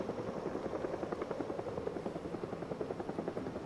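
A helicopter flying around in the zombie survival game Running Scared, its rotor chopping in a fast, even pulse that stays fairly loud and close throughout.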